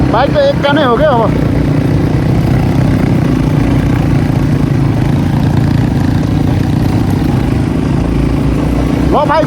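A motorcycle climbs a steep uphill road in third gear, its engine pulling with a loud, steady drone close by. Voices can be heard talking over it at the start and again at the end.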